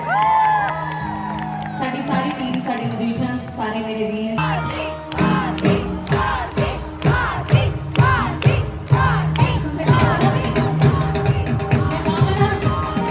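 Crowd at a live Punjabi concert at the Teeyan da Mela in Adelaide: loud, rhythmic clapping and scattered whoops fill the second half, with a host talking over music before and during it.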